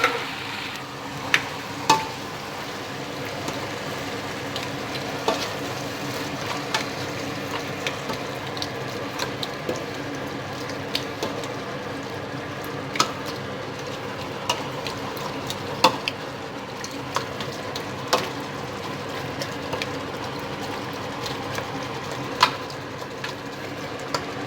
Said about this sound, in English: Then I'm going to add the chunky chopped tomatoes